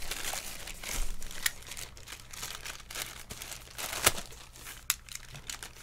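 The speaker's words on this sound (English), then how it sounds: "Let's cut this open." A blunt knife slicing open a courier parcel holding an Obins Anne Pro 2 60% Bluetooth keyboard, giving steady close crinkling and scraping with a few sharp tearing snaps, no talking.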